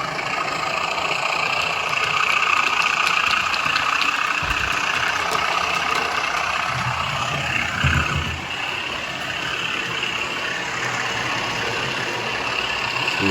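A model railway locomotive running at full power, a steady engine-like drone with a buzzy motor hum held close to the microphone for the whole stretch, a slight swell midway, with no talking over it.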